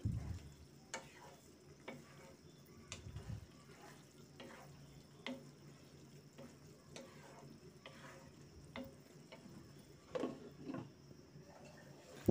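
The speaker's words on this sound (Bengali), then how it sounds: "জিরা গুঁড়োটা দিয়ে আবার একটু নেড়ে নিচ্ছি।" Spoon stirring ground roasted cumin into beef tripe bhuna cooking in a pan, with soft scraping strokes at irregular intervals over a low, quiet sizzle.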